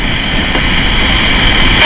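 A steady low engine rumble idles without change, close by and fairly loud, with no talking.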